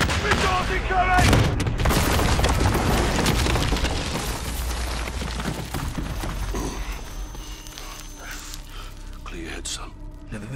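Incoming missiles exploding in Call of Duty: Modern Warfare: loud booming blasts and scattered gunfire, dense at first and fading over the clip, with voices speaking through the noise.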